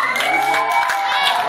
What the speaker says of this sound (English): If you think they need to stay, then give a round of applause.